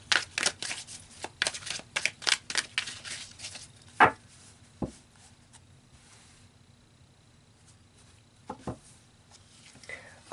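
Tarot cards being shuffled and pulled from the deck, a run of quick papery riffles and taps followed by a few isolated card snaps, close and fairly soft, with no talk over them.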